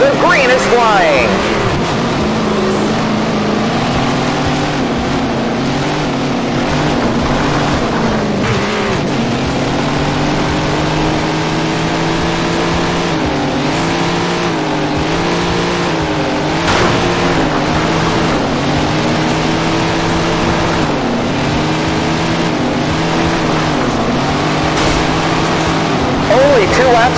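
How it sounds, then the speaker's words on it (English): Several sprint car engines race in the video game Tony Stewart's Sprint Car Racing, a loud continuous drone whose pitch sweeps up and down as the cars rev, with a commentator talking over them. "Listen to those engines as we get ready to go."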